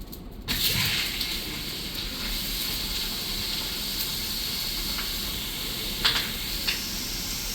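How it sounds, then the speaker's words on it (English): Steam hisses steadily off cooling molten lava at a lava show in Iceland, a broad continuous rush with a couple of faint crackles, and no one talking. "It's just the steam trying to escape"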